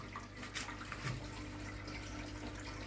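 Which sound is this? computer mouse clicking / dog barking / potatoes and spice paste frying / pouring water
pouring water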